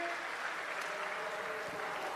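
Audience applause at a large religious gathering in Prayag, a steady, distant wash of many hands clapping at low level throughout.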